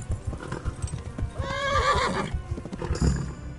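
A horse in the video game Kingdom Come Deliverance neighs loudly and whinnies midway while its hooves clip-clop in a steady trotting rhythm throughout, close and clear.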